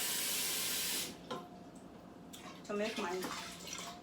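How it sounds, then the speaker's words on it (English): Stockfish rinsed under running water in a kitchen: a loud rush of water that cuts off after about a second, then softer splashing and handling sounds with a voice speaking briefly over them. "now just going to rinse the stockfish, put it in the pot"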